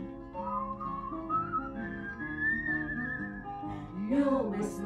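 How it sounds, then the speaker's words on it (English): Someone whistles a lilting melody over soft musical accompaniment, the tune rising and falling in smooth sustained notes, clear and close. "You'll whistle a tune, and I'll whistle a tune"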